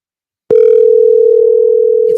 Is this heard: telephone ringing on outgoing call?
yes